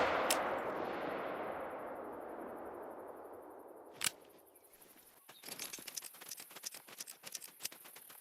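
A single rifle shot cracks sharply during a buffalo hunt, followed by a long fading echo across open ground, then a burst of faint scattered rustling and patter.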